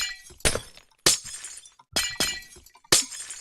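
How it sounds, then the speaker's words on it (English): Blocks of glass shatter in Minecraft, five sharp crashes with gaps of half a second to a second between them, each bright burst fading quickly, close and loud, with no talk. "You like breaking glass?"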